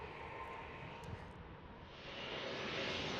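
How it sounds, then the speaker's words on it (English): A Porter Airlines Embraer 195 E2 jet landing at San Diego International Airport, a broad distant engine roar that swells louder toward the end, with no talk over it. "Porter Airlines and the Embraer 195 E2."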